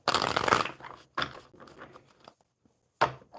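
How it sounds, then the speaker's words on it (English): Playing cards are shuffled at a table in short riffling bursts, a dense crisp flutter followed by quieter patters and brief pauses, close and alone without talk. "I'll start shuffling the cards"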